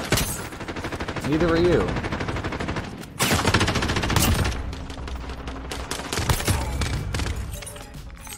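Rapid automatic gunfire bursts crackle through a shooter video game, dense and loud, with a brief pause near the middle before the shots resume, while someone talks over the firing.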